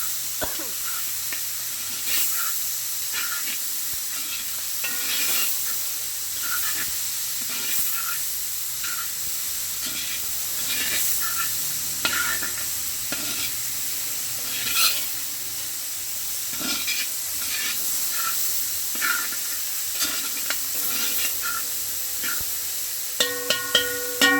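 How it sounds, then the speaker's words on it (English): Chana and aloo sizzle steadily in a pot on the stove, a continuous frying hiss with occasional stirring scrapes and clinks, close and even for a long stretch, with brief knocks near the end. "cover your pot, let this sizzle down or boil down for a couple of minutes"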